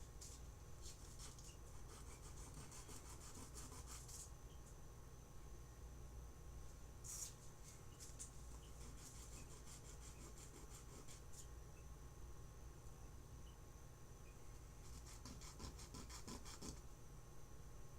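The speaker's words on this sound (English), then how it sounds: "Sanding makes a difference." Wood is sanded smooth by hand, giving soft, steady rasping strokes that come in several bursts over a constant low background hum. The sound is quiet and no one talks.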